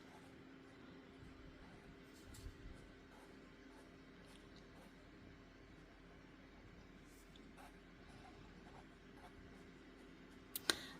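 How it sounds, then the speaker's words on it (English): A pen moves across paper in faint, continuous scratchy strokes, with a few soft taps and a sharper click near the end in a quiet room. "I feel like when I write with it like this, it makes my handwriting look really weird"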